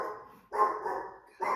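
A dog barks indoors in two loud, close bursts, with a short gap between them and a second quieter stretch after it, and no one speaks over it.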